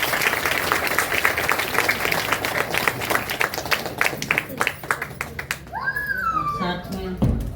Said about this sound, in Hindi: सभी करतल ध्वनि से ताली बजाएं।